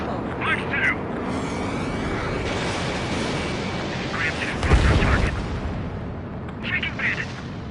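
Missile launch in the Ace Combat 7 video game, a whooshing roar swelling over continuous jet engine noise, with radio voices talking through it.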